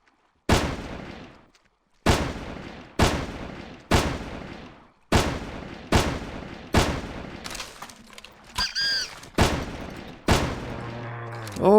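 Repeated loud scout rifle shots fired in the hunting game Carnivores, about nine sharp cracks spaced roughly a second apart, each with a booming decay, and a brief voice between later shots.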